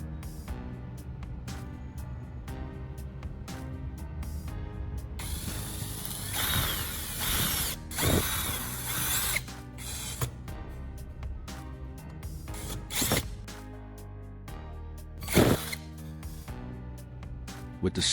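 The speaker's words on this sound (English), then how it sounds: "let's drive the screws in and secure it" Screws driven in by hand with a screwdriver while assembling a homemade welding machine handle: repeated ratcheting clicks and mechanical rattles in short bursts, with a person talking throughout.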